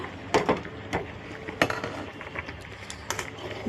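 Khichuri being stirred in an open cooking pot at home, a utensil knocking and scraping against the pot in irregular clacks over a low kitchen background.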